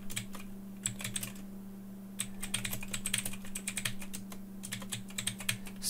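Keys clatter on a computer keyboard as text is typed, a steady run of quick, close clicks in irregular bursts with short pauses, over a constant low electrical hum and no talking.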